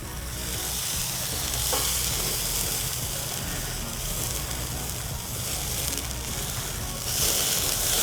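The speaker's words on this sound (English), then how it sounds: "Now, you should hear some sizzling." Steady, loud sizzling of food frying on a hot Outback Explorer 300 portable grill, a continuous crackling hiss with occasional sharper pops and no voices.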